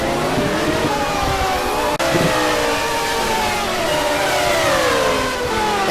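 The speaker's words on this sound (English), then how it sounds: "The Mercedes wants by the Porsche. And Scott can close up real quick under braking" Mercedes and Porsche race cars racing at Mosport, engines revving and shifting loudly with rising and falling pitch as they run close together, with a sharp click partway through.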